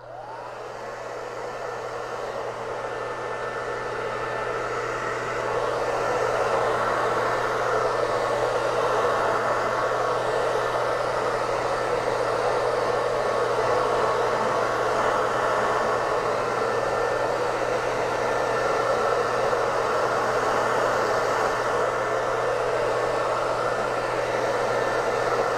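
Hair dryer blowing steadily on faux wood grain paint, a constant loud whooshing whir that builds slightly at the start and then holds even throughout, alone with no talk.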